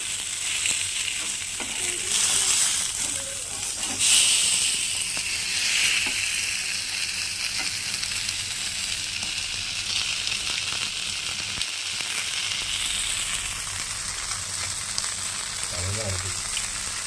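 A whole fish frying in a pan after being turned over, giving a steady, close sizzle of hot oil that continues without pause, with a few faint clinks and no talking.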